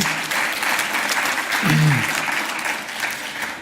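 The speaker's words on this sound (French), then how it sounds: "je crois qu'on peut l'applaudir aussi" A conference audience at the TEPOS 2017 closing plenary applauds the event organiser, a dense, even burst of clapping a few seconds long, moderately loud, with no one talking over it.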